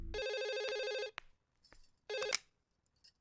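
A telephone ringtone plays with a bright, steady electronic warble for about a second, then stops and starts again briefly after a pause, loud and close, with a few faint clicks between rings.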